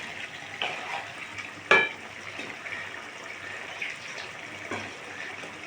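Prawns and potatoes frying in a pan, a steady soft sizzle with a sharp clink of a utensil partway through and a few stirring scrapes, close and fairly quiet.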